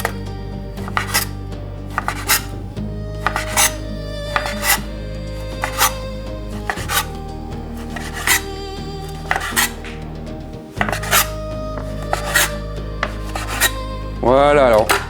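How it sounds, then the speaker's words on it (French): Knife chopping smoked bacon into small lardons on a board, a run of sharp, regular chops with short gaps, loud and close, ending in a brief scraping sweep. "Donc on va le débiter en petits lardons."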